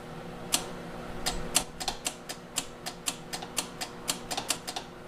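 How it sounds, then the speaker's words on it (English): Solenoid on a gas EZGO TXT golf cart that won't start clicks repeatedly, a run of sharp, fairly quiet ticks at uneven spacing over a steady low background hum. "I do have a solenoid click"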